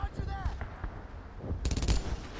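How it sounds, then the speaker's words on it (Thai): Machine gun fire sounds in the Brothers in Arms: Earned in Blood video game, with scattered shots and then a fast close burst near the end, amid game noise and a voice speaking. "ทางขวามีเอ็มจีนะ"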